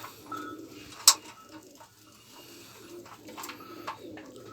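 Pigeons at an evening feeding, soft low cooing murmurs close by with a sharp knock or wing clap early on, otherwise quiet.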